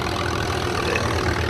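An antique tractor engine runs steadily in an open field during a plow day, its close, even mid-low drone and rhythmic chug continuing without pause.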